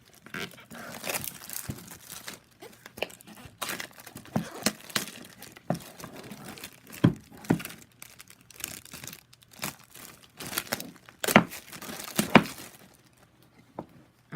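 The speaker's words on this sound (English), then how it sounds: "I'm going to just unbox them" Cardboard and plastic packaging of Gigabyte special-edition Beats EP wired headphones crinkles, tears and rustles in irregular close bursts during unboxing, with occasional sharper crunches.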